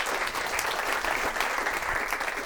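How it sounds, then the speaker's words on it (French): An audience at a live superhero-themed comedy show claps for a performer playing a scientist, giving dense, even applause that carries for a couple of seconds without voices. "on peut applaudir le scientifique"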